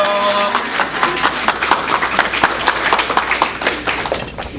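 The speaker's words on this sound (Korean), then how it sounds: "우리 할렐루야로 또 힘찬 박수로 환영하겠습니다" A church congregation bursts into dense, sustained applause to welcome the pastor, many hands clapping at once in a full, roomy wash that stays steady throughout, with a faint tonal hum underneath at the start.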